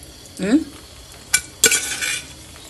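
Chicken pieces stirred into a thick gravy in a pan, with close, wet scraping and clinks of a spoon against metal, a squelchy swirl early on, then sharp knocks and a sizzling rush toward the end.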